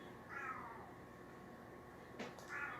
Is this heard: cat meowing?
yes